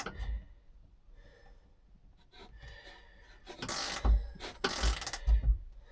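A bolt being tightened up into the wood while refitting the rudder bearings on a Drascombe Lugger, heard as quiet mechanical ratcheting and clicking that builds into louder bursts of scraping and creaking toward the end.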